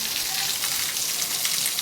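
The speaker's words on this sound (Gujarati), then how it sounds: "ધોધમાર વરસાદ ચાલુ થઈ ગયો છે, અહીં જોઈ લ્યો તમે" Heavy rain pours down on Mota Sukhpur village in Gondal taluka, Gujarat, in a dense, steady hiss, drops pattering on surfaces close by with no voices.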